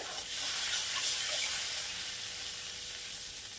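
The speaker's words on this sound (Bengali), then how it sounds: "জলটা এবার একটু ফুটে ফুটে উঠছে" Water boils and bubbles in a pan of bele fish curry with mustard kasundi, a soft, steady sizzling hiss with no talking.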